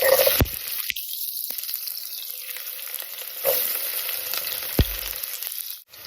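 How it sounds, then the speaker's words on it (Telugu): Onions drop into hot oil and fry with a loud, close, steady sizzle, marked by a few sharp crackles and pops along the way. "ఆయిల్ వేడైందండి. ఇప్పుడు మనము ఆనియన్స్ వేసుకుందాం."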